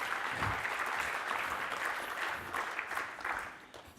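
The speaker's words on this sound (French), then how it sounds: "On peut les applaudir." Conference audience applauding together, a dense steady patter of many hands clapping that holds for several seconds before tapering off slightly at the end.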